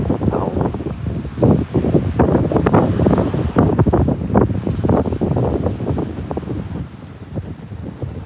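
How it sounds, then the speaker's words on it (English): Strong gusts buffet the microphone in a continuous low roar that rises and falls, loud and close, with no one talking. "it's very windy where I am at the moment."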